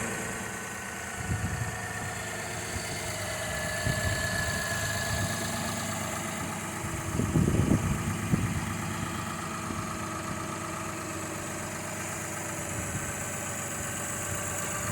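A Lexus RX300 SE-L with about 340,000 miles idles steadily just after start-up, a smooth, even engine hum with a brief louder roughness partway through, close by and without talk.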